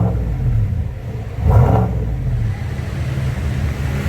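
A raw, unmuffled Chevy 1500 Silverado pickup engine idles with a deep, rough rumble after a muffler delete, briefly revving louder before settling back to a steady loping growl.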